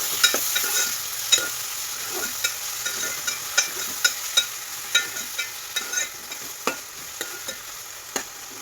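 Chopped tomato pieces fry with reddened onions in a pan while a spatula stirs them. A steady sizzle runs under regular, close scraping strokes roughly every half second.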